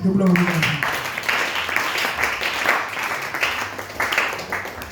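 A church congregation breaks into loud, sustained applause and cheering to acclaim the Lord, with a brief voice at the start and a steady wash of clapping through to the end.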